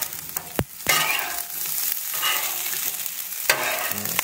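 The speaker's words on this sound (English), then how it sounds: "we're gonna stir fry this up real quick and then get the sauce on" Leftovers stir-frying in extra virgin oil on a Blackstone griddle, a loud broad sizzle punctuated by sharp metal spatula clanks and scrapes on the flat steel top, without any speech.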